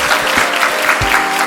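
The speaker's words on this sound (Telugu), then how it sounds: "give him a big round of applause" Applause from an audience at a corporate congratulation event, a steady dense clapping with a few louder individual claps standing out, continuing throughout.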